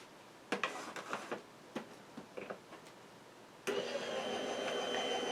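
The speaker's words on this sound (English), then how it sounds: "My die cutting machine." A die cutting machine feeds a paper craft die through for making mini gift bags, starting with scattered clicks and ticks before a steady, loud motor whir runs continuously to the end.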